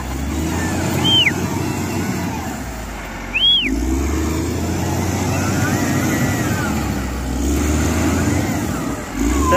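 A LiuGong machine pulling away, its engine rumbling low and steady with a slight rise in revs, close by, with faint whistling tones and occasional background noise over the drone.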